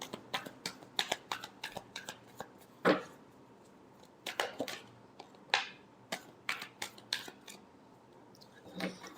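Tarot cards shuffled by hand during a love reading, a quick run of crisp riffling snaps and flicks in uneven bursts, close and fairly quiet with no talk.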